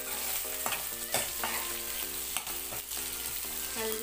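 Fresh curry leaves spluttering in hot oil, a bright crackling sizzle punctuated by regular clinks and scrapes of a spoon stirring the pan.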